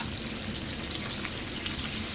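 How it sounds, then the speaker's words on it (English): Chicken pieces shallow frying in hot oil, a steady close sizzle with dense crackling and spitting that stays even throughout. "Into the hot oil, chicken pieces"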